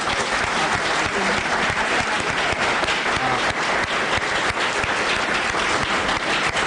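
Sustained applause from a conference audience at a congressional conference, dense and steady clapping at full level for several seconds with no break.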